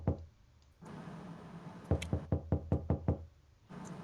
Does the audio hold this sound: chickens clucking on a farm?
no